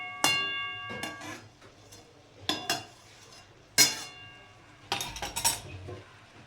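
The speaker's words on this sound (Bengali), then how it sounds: "এবার আমি এটা একটু ঢাকা দিয়ে দিচ্ছি" A metal lid clanks onto a cooking pot of potato, brinjal and chopa shak fry, producing several sharp ringing clinks and scrapes in irregular bursts, close and fairly loud with quiet gaps between.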